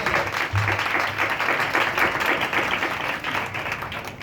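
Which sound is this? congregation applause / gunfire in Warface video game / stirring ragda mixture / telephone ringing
congregation applause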